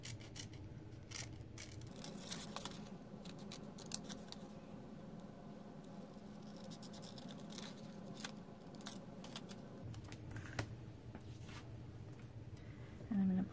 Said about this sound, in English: So I'm just going to cut out the sails.